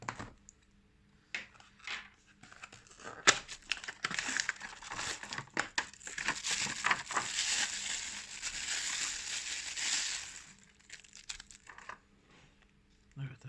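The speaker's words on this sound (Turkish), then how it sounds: "ürünün kutusunu açalım bakalım nasıl bir ürün bizi bekliyor" Cardboard and plastic packaging of a Sunix HLD01 magnetic vent-mount car phone holder crinkle and rustle up close, with scattered clicks and a denser crumpling burst in the middle.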